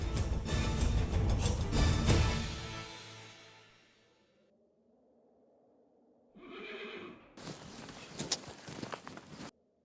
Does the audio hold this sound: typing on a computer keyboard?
no